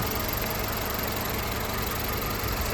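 A car engine, running after an oil leak repair, idles at a steady, continuous drone with a constant low rumble and no talking.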